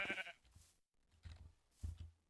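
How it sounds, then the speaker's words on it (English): Sheep in the Minecraft video game bleat in short, quiet, separate calls, with a brief gap of near silence between them. "kill the sheep so I can get a bed"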